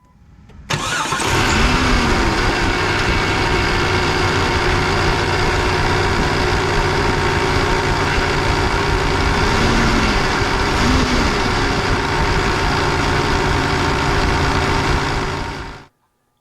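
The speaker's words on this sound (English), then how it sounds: "If you guessed that was the power steering pump, you are right." A 1999 Jeep Cherokee engine running with a failing power steering pump, a loud continuous close drone and whine for about fifteen seconds, with faint rising moans as the steering is turned, no talking.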